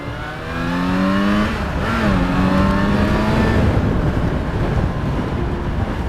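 A 2012 Yamaha FZ6R motorcycle engine pulls steadily while riding, with clear rising harmonic tones and shifts, mixed with constant wind rush at the microphone; close and loud throughout with no talking.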